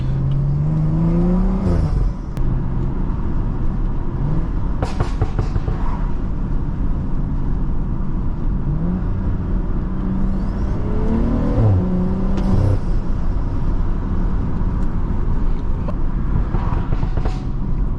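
Stage 2+ tuned BMW driven on city streets in Ottawa, its engine droning loudly and close throughout, with rising revs and scattered sharp exhaust pops and crackles during deceleration.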